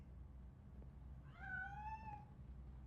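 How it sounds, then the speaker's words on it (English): A cat in the video game RoboCop: Rogue City gives a single clear meow over a quiet, low background hum. "That cat must be hiding inside."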